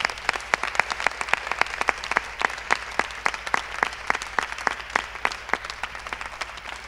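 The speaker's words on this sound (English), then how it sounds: "Round of applause." A small audience at a festival feedback session applauds, with distinct individual claps in a fairly regular pattern, moderately close and not very loud.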